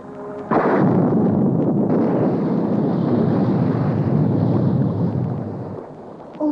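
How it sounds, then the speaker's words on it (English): A great underwater explosion shatters a mini-sub, a sudden heavy boom swelling into a long, loud, rumbling roar that slowly fades. "The mini-sub sank to the bottom and was shattered by a great explosion"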